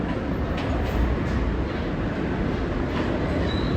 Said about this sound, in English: 3 train heading to New Lodge.